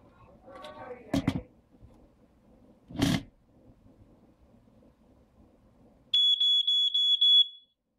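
DIY aquarium water alarm sounding, a shrill high-pitched electronic beeping pulsing rapidly for about a second and a half after a few thuds and handling noises.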